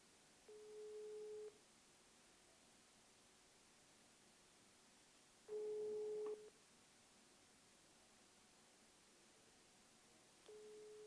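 A telephone busy tone sounds during an attempted call, three separate tone bursts, each about a second long, spaced several seconds apart over faint hiss.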